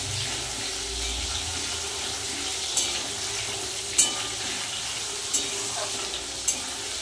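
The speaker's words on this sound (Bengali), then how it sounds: "টমেটোটা কিন্তু একটু ভাজা ভাজা হয়ে গেছে" Chopped tomato with black cumin sizzles softly in oil in a pan for rohu fish kalia, a steady close hiss broken by a few sharp utensil clicks, with no speech.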